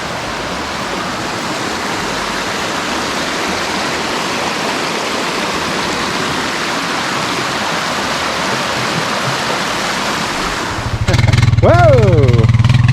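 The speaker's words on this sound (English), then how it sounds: "So this river is really rushing up here." A rushing mountain river beside the Lower Dewey Lake trail near Skagway, Alaska, roars as loud, steady broadband white water through the whole stretch. Near the end a louder, closer low rumble and a rising whine join it.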